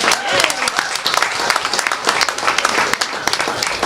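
Live studio audience applause at a charity radiothon, a dense wash of clapping that holds steady and fairly loud throughout, with faint chatter mixed in.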